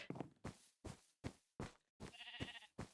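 Sheep on a Minecraft sheep farm bleating in a rapid series of about six short, close calls with brief silent gaps, the last one longer and more wavering, no talk.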